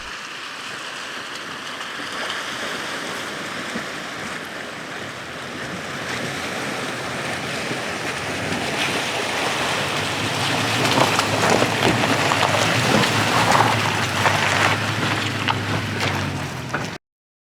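An off-road vehicle fords a water crossing on the Rim Road in the Colorado wilderness. Steady rushing water and wind noise build gradually and grow louder toward the end, with no voices.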